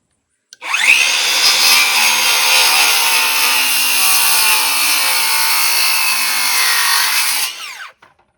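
A circular skill saw cuts through a wooden fence board for horse fencing, a loud continuous buzzing whine that holds steady for about seven seconds before winding down.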